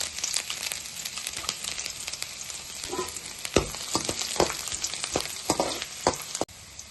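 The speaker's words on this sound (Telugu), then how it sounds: "ఆయిల్ అయితే వేడయింది మనం సన్నగా కట్ చేసుకున్న అల్లం ముక్కలు వేసుకుందాం సన్నగా కట్ చేసుకున్న వెల్లుల్లిపాయ ముక్కలు" Finely chopped ginger and garlic hit hot oil in a kadai for gobi fried rice, giving a loud, steady sizzle with crackling pops and a few stirring scrapes throughout.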